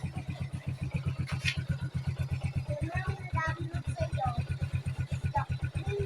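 A motorcycle engine idles nearby with a steady rapid putter, running continuously throughout while a person talks over it, in Cabanatuan City, Philippines.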